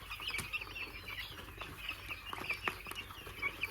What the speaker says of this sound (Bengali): মুরগিগুলো অনেক সুন্দর আছে, দেখেন